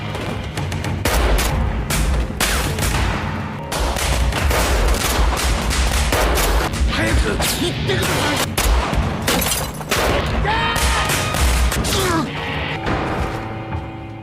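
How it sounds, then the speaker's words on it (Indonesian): Soldiers firing guns, a dense fusillade of sharp overlapping shots in rapid bursts, loud and close, continuing almost without pause over a low rumbling background. "salah satu tentara itu menembaki hewan peliharaan Kunimatsu"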